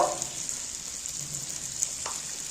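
Spices frying in a pan as sour yogurt goes in, a hissing sizzle that starts stronger and settles into a steady, fairly quiet fry, with a brief clink partway through.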